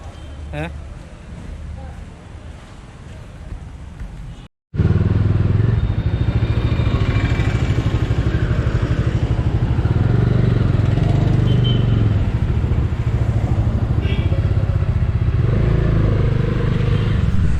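A freshly serviced motorcycle engine drones loudly and steadily while riding, with wind rumble and a voice talking over it.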